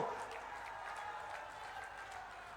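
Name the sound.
thunderous applause welcoming Amit Shah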